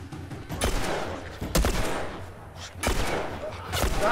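Gunfire in The Last of Us video game, with several sharp shots and bursts spread over a few seconds against dense game background noise.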